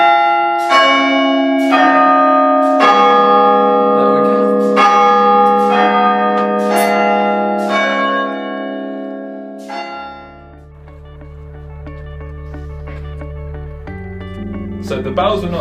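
Large cathedral bells ring from the bell tower in a slow, overlapping peal, each strike ringing out long, before deeper tolling and a low rumble take over toward the end.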